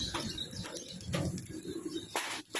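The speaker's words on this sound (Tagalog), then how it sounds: "Ayan, mga kalapatids. Isa-isa na pong nagkakawalaan." Pigeons let go one after another, with soft coos, chirps and bursts of wing flapping close by over a noisy outdoor background.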